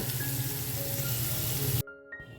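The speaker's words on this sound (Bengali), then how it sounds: "সাথে কাজু আর কিসমিসটাও হালকা করে ভাজা হয়ে গেছে" Cashews and raisins fry in hot oil in a pan, giving a steady, close, dense sizzle that runs for under two seconds and then cuts off abruptly to near silence.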